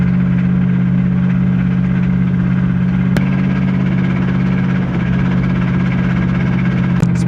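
A struggling car engine losing power on a road trip drones at low, held revs, a steady loud hum inside the cabin with a couple of faint clicks and no voices.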